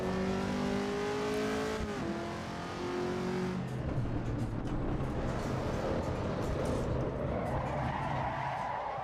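Race car engine in the Assetto Corsa Evo racing game, a Mercedes-like supercharged motor, revving with rising and falling tonal whine, then tyres skidding and scrabbling under continuous loud engine noise.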